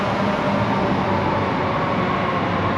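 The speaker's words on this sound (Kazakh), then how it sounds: "Мумбайдың пойызы." A Mumbai metro train pulls in at a station platform with a loud, steady rumble and roar of wheels and carriages that fills the whole stretch without letup.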